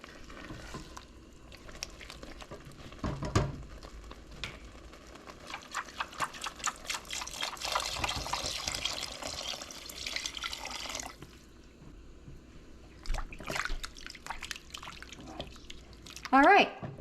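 Broth poured into a pot of chicken and sausage gumbo, a sustained liquid splashing and sizzling with clinks and stirring, close by and moderately loud.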